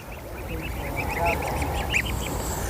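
Ducks and ducklings at the Vannathipuzha river give repeated soft quacks and peeping calls at moderate distance over a constant low rumble of outdoor ambience.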